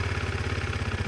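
A KTM RC 390 motorcycle engine with a discreet stock exhaust idles close by, a steady, even low throb with a light mechanical clatter.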